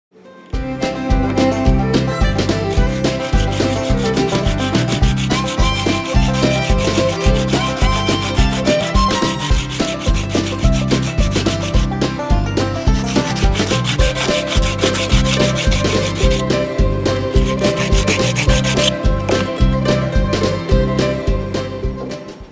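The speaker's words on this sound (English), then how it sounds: "I'll do that with a piece of about 100 grit sandpaper and a sanding block." Steady, rhythmic sanding of a small wood block with 100-grit sandpaper on a sanding block, with fast back-and-forth rasping strokes continuing loudly and evenly throughout.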